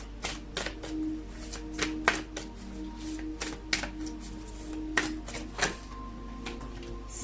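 Whispers of Love Oracle cards being shuffled by hand at close range, irregular soft slaps and crisp riffles spaced a second or so apart over a quiet low hum.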